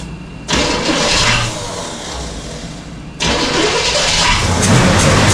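An abandoned Squarebody pickup truck with a carburetor needing a rebuild cranks and catches in two loud, close attempts, the engine roaring up, sagging, then surging again.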